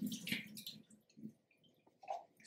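Water drains from chopped onion for a chayote salad: wet squishing, dripping and splashing bursts in short irregular clusters, close up and fairly quiet, with no talk.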